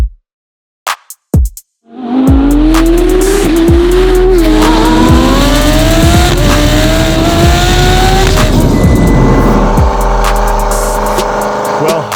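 A 2500-horsepower twin-turbo Audi R8 V10 roars up through the gears under hard acceleration, loud and close, with rising revs and tire noise after a few sharp opening clicks.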